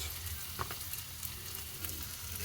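Ground spices, turmeric, chili, cumin and coriander, fry and are stirred in a pan, a close, quiet crackling sizzle with brief scraping pulses, no voices.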